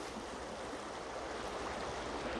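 Steady rushing water flows continuously, a broad close-up wash of a stream running under a train bridge, with no voices.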